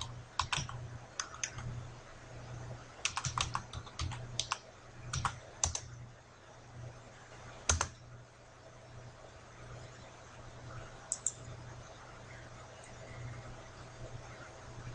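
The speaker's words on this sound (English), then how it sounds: "I simply open a browser and type in this IP address." Keys tapped on a computer keyboard while entering an IP address into a browser, a sparse run of quiet, close clicks in irregular bursts with pauses, over a faint steady hum in a quiet room.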